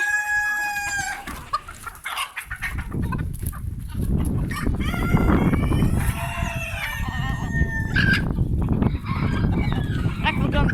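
Hens clucking and roosters crowing in a larger henhouse during a morning release of poultry, a dense, loud, close chorus of overlapping calls with several clear crows.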